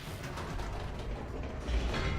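Minecraft door mechanisms open with a low, grinding mechanical rumble that swells near the end, heard alone without talk.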